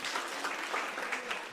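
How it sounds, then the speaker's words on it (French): A classroom of students bursts into brief, lively applause, a dense patter of many hands clapping at once. "Applaudissez pour ça."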